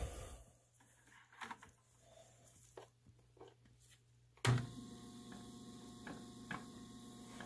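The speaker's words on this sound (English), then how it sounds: "We're going to go ahead and start up the machine." A maple syrup reverse osmosis machine set up for a sodium hydroxide soap-wash rinse switches on with a sudden onset, then settles into a steady, fairly loud mechanical hum with faint ticking, after a quiet stretch of low hum and small handling noises.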